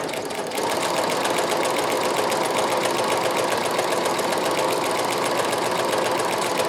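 A Brother CP7500 sewing machine stitching a pattern, starting slow then settling into a fast, even mechanical whir with a rapid needle rhythm, close and steady with no talk.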